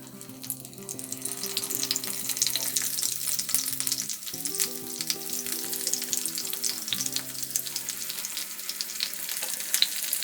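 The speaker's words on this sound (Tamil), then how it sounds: "இது தண்ணி ஊற்றி வேக வைக்கக்கூடாது, எண்ணெயிலேயே சுருள வதங்கி வேகணும் இது" Stuffed brinjals fry in oil in a pan over a medium flame, giving a steady, close, continuous sizzle and crackle with no talking.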